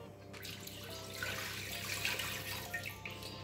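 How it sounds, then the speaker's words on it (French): Water poured into a sauté pan while cooking chicken with grapes: a soft, continuous splashing pour of moderate loudness over low kitchen background noise, with no talking. "On va ajouter l'eau,"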